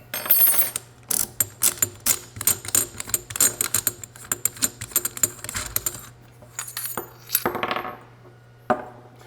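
A wrench clicks away at a nut on a Typhoon F12 Sport shotgun, rapid ratcheting bursts in quick runs, close and crisp, with a few metallic clinks and a pause near the end.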